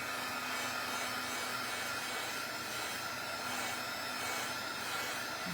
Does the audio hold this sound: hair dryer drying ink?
yes